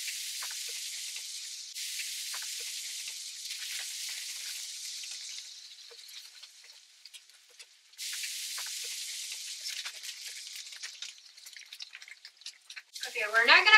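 Bacon sizzling in olive oil in a pan on the stove, a steady close hiss and crackle that dips midway and surges again, with brief talk at the end.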